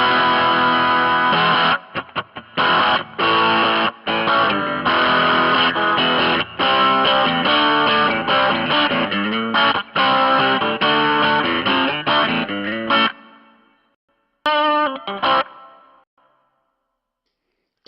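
Electric guitar through a Lounsberry Nigel pedal into a Hot Tone amp, loud, heavily driven chords chugged in rapid rhythmic bursts with brief stops, ending in a few decaying hits and silence.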